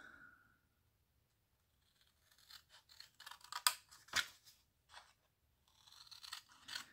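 Scissors cut paper while a perpetual calendar is being made, giving a string of short crisp snips and scraping cuts at close range, with quiet pauses between.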